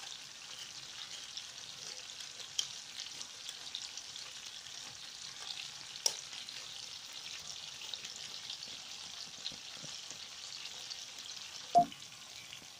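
Beef strips with arugula and cherry tomatoes in a pan give off a faint, steady sizzle, broken by a few soft clicks and one sharper knock as they are stirred.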